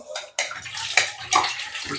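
Water splashes and rushes in short bursts, close by, with a hollow, sloshing quality as it fills a cooking pot for tomato rice.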